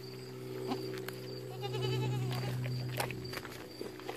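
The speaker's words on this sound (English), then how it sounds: "You want some, little goat?" A little goat eating sweet corn bleats in a long, wavering cry near the middle, with softer bleats and faint rustling and footsteps around it, close by and fairly quiet.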